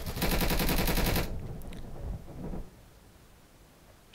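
Rapid gunfire in the video game Insurgency, a loud sustained burst of automatic shots for about a second, followed by a few fainter scattered distant shots and rumbling echo fading out.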